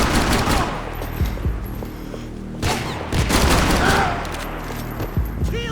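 Gunfire in the video game Max Payne 3, with dense bursts of automatic fire and heavy booming shots layered over a rumbling background. Several rapid volleys come close together and are loud and near.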